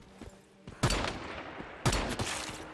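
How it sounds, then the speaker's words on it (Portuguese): Two sharp gunshots in the video game Once Human, about a second apart, each followed by a short crackling echo, against quiet background noise. "2 tiros na cabeça, já era."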